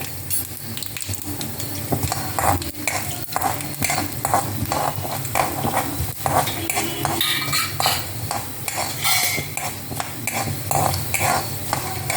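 Mustard seeds crackle and pop in sizzling hot peanut oil, with a continuous frying hiss and occasional scrape of a spoon stirring the pan, no voices.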